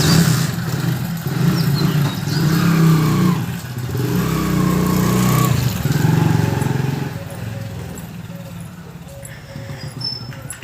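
A motorcycle rides through a town toward a vegetable market in the early morning, its engine a steady mid-pitched drone with slight throttle changes beneath road noise. Someone speaks over it.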